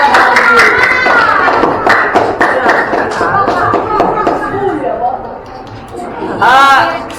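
Classmates clap for a student returning to his seat in a classroom, bursts of hand claps mixed with chatter and a teacher's voice, with a louder flurry near the end.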